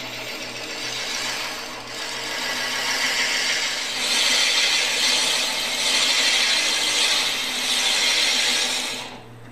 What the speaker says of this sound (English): You want to make sure you use a slow RPM when you're drilling with a Forstner bit